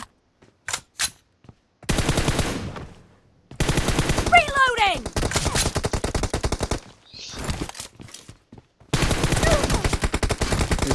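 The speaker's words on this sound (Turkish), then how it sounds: "Ya mermiyi stabil atamıyorum." Automatic weapon fire from a PUBG Mobile match, played on an iPhone SE 2020, comes in repeated rapid bursts, some several seconds long, separated by short gaps and a few isolated single shots.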